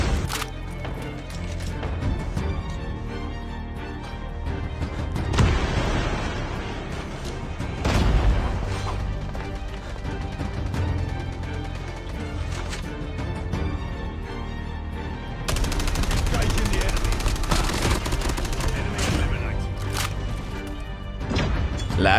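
Rapid bursts of AK-117 rifle fire from a Call of Duty Mobile match, loud and dense with heavy booming impacts throughout, continuing in sustained volleys without any voices.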